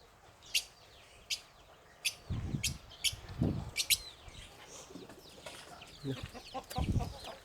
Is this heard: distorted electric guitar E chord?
no